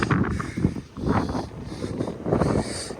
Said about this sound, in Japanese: 立ってるのも辛いぐらいの強風が吹いて飛んでいっちゃいました。